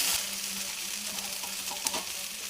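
Okra (lady finger) frying in a pan for bendakaya fry, with a dense continuous sizzle and scraping stirs throughout, close by and without talk, one brief louder clink near the end.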